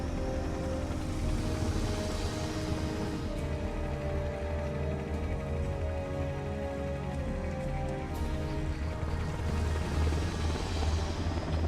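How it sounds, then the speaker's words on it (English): A Russian Hind D gunship helicopter from the video game Metal Gear Solid drones steadily with a dense, unbroken rotor roar that stays loud and constant throughout, with no speech. "Colonel, what's a Russian gunship doing here?"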